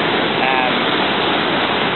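The Salto Bossetti cascade on the Argentine side of Iguazu Falls roars as a loud, dense, continuous rush of falling water heard up close, with no breaks.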